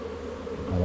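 Honeybees pour out during a hive inspection at the West Hut, their buzzing a dense, steady drone close by that grows slightly louder near the end.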